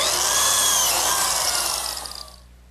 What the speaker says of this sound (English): Now I'll cut all the slots in the remaining edges.